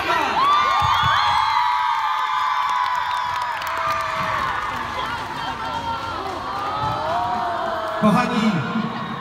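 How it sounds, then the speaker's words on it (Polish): A festival crowd at the Young Stars Festival cheering, whooping and applauding, with loud, sustained, dense noise and shouts over music. "Wielki brawa!"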